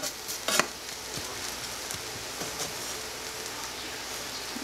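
Green onions fry in a pan with a steady soft sizzle, and a sharp stir or crackle sounds near the start.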